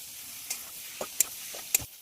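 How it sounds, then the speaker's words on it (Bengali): Fried cauliflower with spices being stirred in a pan, a soft sizzle underneath with a few sharp clinks and scrapes of the spoon at irregular intervals. "ফুলকপিটা দিয়ে খুব ভালো করে আবারও কষানোর জন্য নাড়বো"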